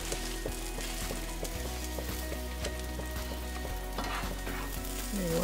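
Fresh spinach sizzles in a pan with a little chili flakes. The crackle is steady, with light clinks and scrapes of stirring throughout and no talk.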